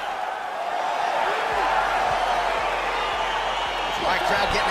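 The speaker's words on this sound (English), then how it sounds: "crowd getting excited as this fight gets underway" A crowd roars steadily as a bout gets underway in the UFC 4 fighting video game, a continuous broad wash of excited noise with a few dull thuds underneath.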